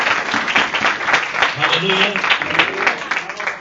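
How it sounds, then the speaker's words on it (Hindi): A church congregation claps loudly in praise during a Hindi sermon, a busy, uneven stretch of clapping that runs throughout under a voice speaking over it. "परमेश्वर के लिए जोर से ताली मारकर"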